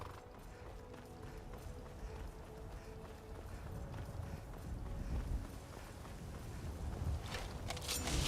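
Horse hooves clip-clopping in the Skyrim video game, a steady rhythmic patter over a busy, dense game soundscape that swells slightly toward the end.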